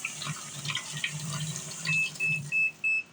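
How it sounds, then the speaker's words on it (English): A Magic Chef portable apartment washing machine fills with hot water, a soft running trickle close by, followed by a series of high electronic beeps from the machine near the end. "Definitely filling hot water."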